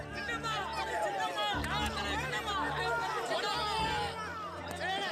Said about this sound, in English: the crowd went into a frenzy.